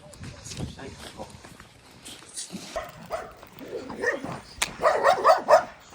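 Dogs bark and yip at a dog being walked outdoors, with short, sharp barks that grow louder toward the end, mixed with people talking.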